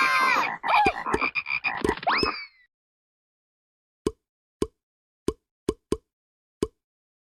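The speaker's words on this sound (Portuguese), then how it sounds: "Depois, ele encheu as casas do Egito com rãs." Frog croaks used as a sound effect in a children's story about the Egyptian plague of frogs: a dense burst of croaking first, then silence, then six short, separate plop-like croaks spaced apart.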